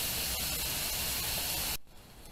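Burgers sizzle loudly in a hot skillet, a dense, steady hiss that cuts abruptly to a much quieter crackle near the end, with no talk.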